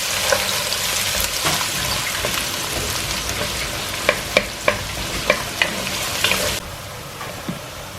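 Onions frying in a pan for a biryani, a steady broadband sizzle with scattered sharp clicks of stirring toward the end, close and fairly loud, then the sizzle drops away near the finish.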